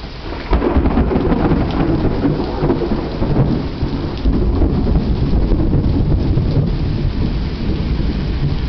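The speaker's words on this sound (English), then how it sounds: "Isolated showers and thunderstorms, you know." Thunderstorm during isolated showers, heavy steady rain pouring with deep rolling thunder, loud and continuous from a porch, no talking.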